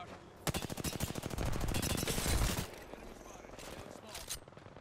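Rapid automatic gunfire in the battle royale game Apex Legends, a dense burst of loud, close shots lasting about two seconds, then quieter game sounds and scattered distant shots.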